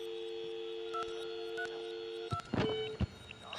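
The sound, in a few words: telephone keypad dialing a number in VR game Fiendish Fate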